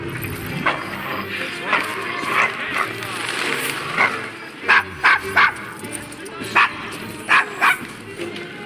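A dog barks in short, sharp bursts during a street scene in Assassin's Creed Syndicate, with several loud yaps close by and characters talking between them.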